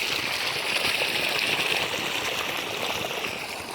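Water from a well pump pours and splashes steadily from an irrigation pipe into a wheat field nearby, a continuous gushing hiss that eases slightly toward the end.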